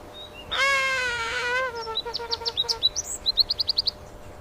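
A bird gives one long, harsh drawn-out call, followed by a rapid series of short, high chirps in an accelerating rhythm, close and clear with no other sounds.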